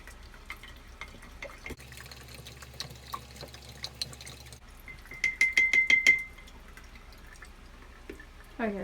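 A spoon stirring sugar into freshly brewed coffee for coffee kombucha, clinking against the glass in a quick run of regular taps, with faint drips and light handling sounds around it.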